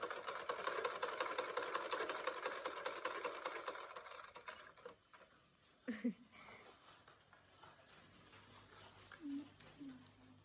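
A hand-operated, non-electric sewing machine stitches a Thai sarong, a rapid, steady mechanical clatter for the first few seconds before it stops, with someone talking over and after it.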